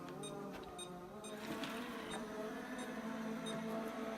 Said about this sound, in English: What I will do is I'll just start the Hoover off.